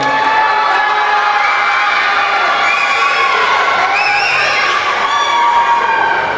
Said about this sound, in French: Allez, des applaudissements maintenant pour celle qui porte le numéro 5, la Sephora